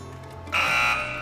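A single electronic buzzer on an Islamic quiz show sounds after a brief stretch of low hum, a loud, steady, harsh tone held for most of a second before it eases off.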